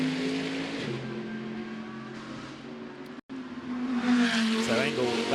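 Mauro Engel's number 77 GT race car at speed in Macau GT Cup qualifying on a street circuit, its engine note loud and sustained with shifts and a brief cut, under commentators talking.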